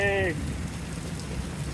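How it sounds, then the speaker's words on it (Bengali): Rain falls steadily during a storm, a soft, dense patter over a short stretch, with a brief voice at the very start. "অনেক ঝড় হচ্ছে"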